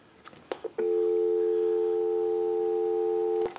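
A steady, continuous dial tone from a converted Popeye telephone hums loudly for about three seconds, preceded and followed by brief clicks and handling noises.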